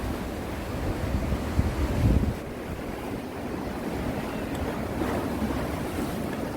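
High ocean waves crash and wash steadily at a coastal fishing spot, a dense roar of surf mixed with wind buffeting the microphone, swelling louder for a moment before settling into a constant wash.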